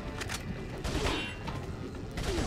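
Gunfire in the Resident Evil 4 video game: a few sharp shots ring out over a steady bed of game ambience and rumble, fairly loud and close.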